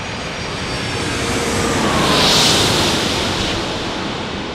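An Airbus A330 airliner's engines at San Diego airport make a broad, steady roar that swells to a peak near the middle and then eases off. The jet sounds fairly close, and no voices are heard.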